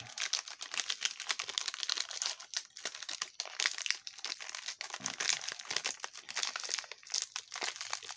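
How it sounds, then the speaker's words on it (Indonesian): Crinkly plastic wrapper of a So Tango French vanilla milk wafer snack being opened, a dense run of close, loud crackling and rustling bursts that continues throughout without talk. "Oke, saya buka dulu tadi so tenggonya"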